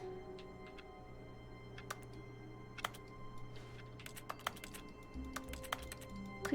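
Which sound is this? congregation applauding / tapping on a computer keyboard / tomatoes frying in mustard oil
tapping on a computer keyboard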